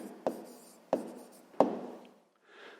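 A pen scratches an answer onto paper in three short, close strokes, each separated by a brief pause, with a faint rustle at the end.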